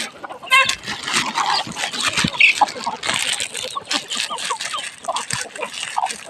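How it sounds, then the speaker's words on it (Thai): Many hungry chickens cluck and chatter close by in a busy, continuous flock at a temple in Chae Hom, Lampang, with faint voices mixed into the noise. "โอ้ไก่เยอะเยอะ"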